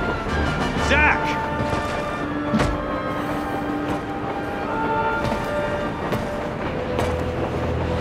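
A moving train rumbles and rattles steadily in the Crisis Core: Final Fantasy VII Reunion game, with music, effects and character voices layered over the running noise.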